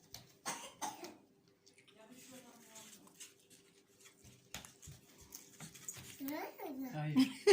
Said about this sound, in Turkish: Bak öksürüyorsun korkuyorum